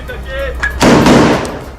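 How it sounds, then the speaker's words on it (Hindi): Gunfire from Israeli soldiers during a raid on a weapons depot in Gaza, a single loud, close blast with a rough decaying tail, preceded by faint background voices. "उन्होंने एक के बाद एक कई गोलियां चलाई।"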